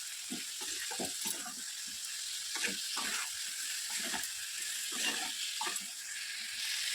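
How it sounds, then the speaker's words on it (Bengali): Chicken being browned in a pan with a splash of water gives off a continuous bright sizzle, broken by repeated clatters of stirring as the meat is turned, with no one speaking. "অনেকটা কষানো হয়ে গেছে একটু জল ছেড়ে দিচ্ছি"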